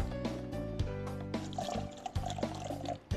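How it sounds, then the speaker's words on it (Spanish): Water poured into a bowl of egg for a capeado batter, a close trickling and splashing flow broken by small clinks and drips, moderately quiet with no voices. "voy a ponerle agua"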